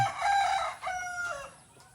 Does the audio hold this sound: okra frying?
no